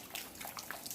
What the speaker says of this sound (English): it's dripping off the house